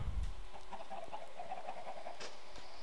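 Chickens clucking in the Minecraft video game inside a farm build with iron golems nearby, a steady run of soft, repeated game clucks over a quiet ambient background.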